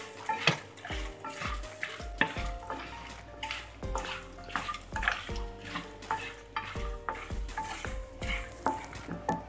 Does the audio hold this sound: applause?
no